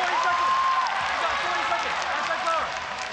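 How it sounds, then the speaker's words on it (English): An arena crowd at a ONE Championship women's mixed martial arts bout roars and cheers continuously during a ground exchange, with voices carrying over the steady noise. "Crowd loving the advantageous position now for Tiffany Tio."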